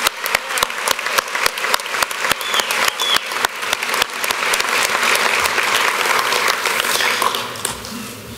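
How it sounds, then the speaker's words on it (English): Sustained audience applause fills a hall at a sports hall of fame ceremony, loud and dense with rapid overlapping claps that swell toward the middle and carry on without a break. "Please give a round of applause to my friends,"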